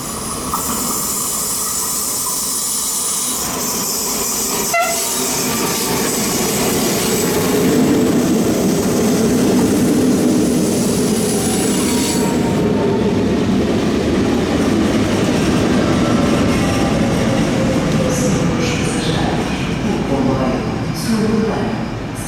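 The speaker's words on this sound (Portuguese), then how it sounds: "procedente de Sintra e, com destino a Lisboa, Oriente, vai dar entrada na linha número 1" A suburban train from Sintra pulls into a Lisbon station platform during rush hour, with a loud, steady rumble, hiss and clatter of wheels that builds as it arrives, while a station announcement plays over it.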